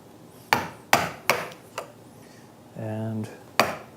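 A chisel struck repeatedly with sharp, close wooden knocks while cutting a mortise for a mortise and tenon joint in wood, about six blows at an uneven pace, with a brief tonal scrape or squeak between them.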